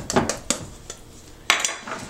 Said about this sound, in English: we're going to use this, which is a pie blender, and you're going to whisk your flour and items together